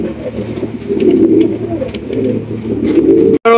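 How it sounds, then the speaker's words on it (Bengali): Pouter pigeons coo in a pet market, a close, loud series of low throaty rolling coos repeating through the clip, with a brief cut near the end. "রয়েছে চমৎকার আরো এক জোড়া পটার কবুতর।"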